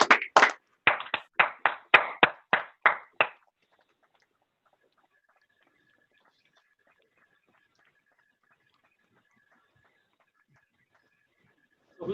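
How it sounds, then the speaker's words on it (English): An audience applauds council members at a town council meeting, a burst of clapping in several quick surges lasting about three seconds, then near silence with a faint steady hum. "I'd like the whole audience to stand and give a round of applause to all these fine gentlemen"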